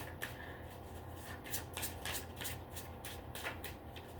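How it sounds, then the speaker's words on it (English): A deck of tarot cards is shuffled by hand, quick riffling bursts and soft slides repeating in an uneven rhythm, close and fairly quiet, with no talking. "that's my last shuffle"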